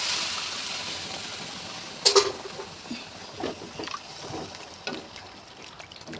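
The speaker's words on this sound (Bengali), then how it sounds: "এবার জলটা দিয়ে দেবো" Water is poured into a pan of sautéed thankuni leaves and potatoes, a low rushing trickle with a sudden sharp splash and sizzle at the start, then gentle bubbling and gurgles nearby.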